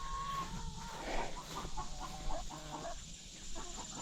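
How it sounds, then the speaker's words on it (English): Hens in a backyard coop cluck and squawk close by in uneven bursts, a few louder calls standing out over a steady low background, with no talking. "Who's squawking in there?"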